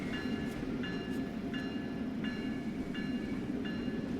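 Amtrak Acela in the Avail Liberty livery runs the Northeast Corridor between New York and Trenton in Train Sim World 3, giving a steady rolling rumble with faint high tones recurring at regular intervals and no talking.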